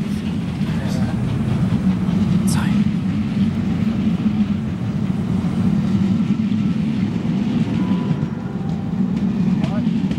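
Steam locomotive 60009 Union of South Africa pulling away from Reading station, a steady loud low rumble with rail clatter and a brief whistle-like squeal, while people chat nearby over the engine.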